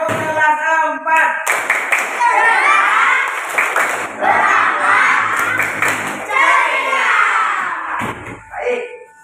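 Year 4 pupils in a classroom do a rhythmic class clap, with repeated patterned hand claps and children's voices chanting loudly in unison, ending in a few scattered claps.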